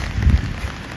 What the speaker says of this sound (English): it is now turned into rain